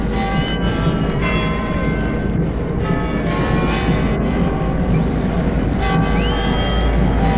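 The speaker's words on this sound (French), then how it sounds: "Dans Broadway, une église, le carillon d'une église joue la Marseillaise, ce qui est assez inhabituel." A church carillon on Broadway plays La Marseillaise from a distance, its tones blurred beneath loud, constant city traffic noise.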